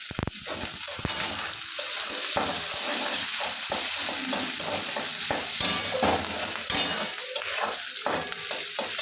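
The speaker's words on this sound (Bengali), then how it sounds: "ভালো করে একটু ভেজে নেব" Green chillies hiss and crackle as they fry in hot oil with spiced onion and garlic. A steady, loud sizzle runs throughout, broken by frequent scraping clicks from stirring.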